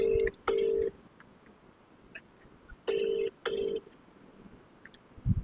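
Touch-tone dialing on a phone set to speaker, with clear paired DTMF beeps in two short bursts separated by a pause, a few faint clicks and quiet room noise between them.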